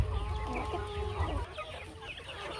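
Chickens on a free-range poultry farm cluck and murmur close by, several hens overlapping in a busy, continuous chatter.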